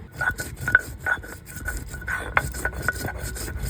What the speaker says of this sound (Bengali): লং, দারচিনি আর দিয়েছি গোলমরিচ, একসঙ্গে বেটে নেব।